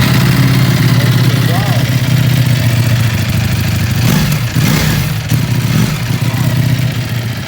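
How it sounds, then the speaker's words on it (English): Ducati Panigale V4 with an Akrapovic exhaust idling steadily after a start, a loud, deep rumbling exhaust note close by with a few small throttle blips, while people talk over it. "So okay, you're gonna fire it up, fire the engine."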